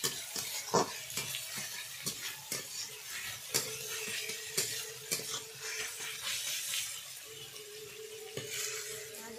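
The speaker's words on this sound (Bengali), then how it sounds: "পেঁয়াজগুলো একটু ভালোভাবে লাল লাল করে ভেজে নেব।" Chopped onions frying in a pan for a green pea ghugni, a soft continuous sizzle broken by repeated sharp scraping and stirring strokes of a spatula, close and fairly quiet.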